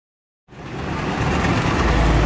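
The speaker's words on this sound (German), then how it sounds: "Jetzt findet gerade eben hier die Fahrzeugparade statt" Vintage Eastern Bloc vehicles rolling past in a parade at a meet in Pütnitz, a rumbling engine and road noise that starts abruptly after silence and builds steadily louder and nearer.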